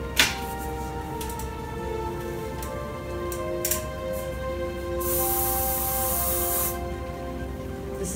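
Hairspray mists onto a loosely set U-part wig with extensions: a few quick faint puffs, then one longer, steady hiss of about two seconds, close by in a quiet room.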